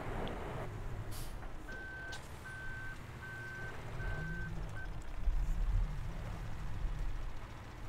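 A truck in Farming Simulator 2017 gives a steady run of evenly spaced reversing beeps over a low engine rumble, which swells toward the end with no one speaking.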